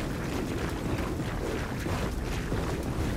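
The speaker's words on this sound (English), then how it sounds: "Oh, guys, we got another wind flare." Windflare storm wind in the video game Gears of War 4, a loud steady roaring gust with broadband rushing noise that never lets up.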